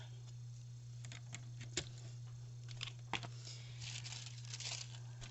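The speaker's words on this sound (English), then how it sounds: "So what I have here is just blue colored tissue paper." Blue tissue paper crinkles and rustles faintly up close, with scattered sharp crackles and soft crumpling under a steady low electrical hum.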